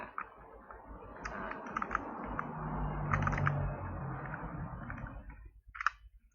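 Keys clicking in bursts on a computer keyboard while someone builds a web page in Dreamweaver CS6, close and fairly quiet, with a low steady room hum beneath and a brief pause near the end.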